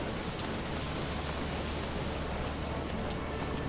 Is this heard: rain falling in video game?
yes